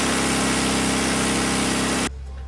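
A Mini engine on a test rig runs steadily under load at a held 2000 RPM, loud and droning, then abruptly drops away to a low rumble near the end.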